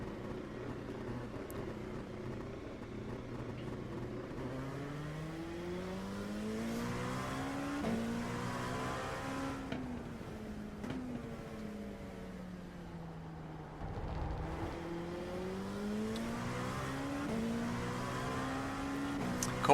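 A race car engine in the iRacing sim drones on an out lap at Fuji on cold tires after a pit stop. The pitch climbs and falls through gear shifts, with a steady onboard roar and a deep dip near the end.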